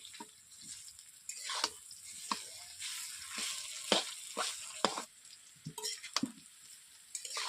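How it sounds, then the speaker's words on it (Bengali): Pieces of chalta, elephant apple, fry in oil for a village-style pickle, giving a close, continuous sizzle broken by frequent scraping stirs as they are turned over in the pan. "আমি চালতাগুলোকে উল্টে পাল্টে ভেজে নিচ্ছি।"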